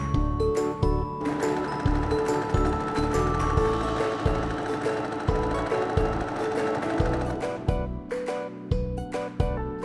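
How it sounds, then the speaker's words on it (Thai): A Brother PQ1500SL sewing machine with pin feed runs through thick furry fabric, a rapid mechanical chatter of needle strokes with uneven pauses and clunks, close and fairly loud. "สามารถเย็บผ้าหนาขนฟูแบบนี้ได้ สบายๆเลยค่ะ"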